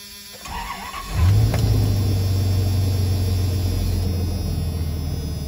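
A 1997 Dodge Ram 2500 truck engine cranks briefly and fires up, then settles into a loud, steady, low rumbling idle that continues close by without talk.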